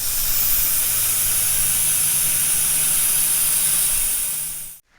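A spray gun hisses steadily as red paint goes onto rolling chassis parts of a Farmall Super M tractor under rebuild, a loud continuous spray lasting about five seconds before cutting off abruptly.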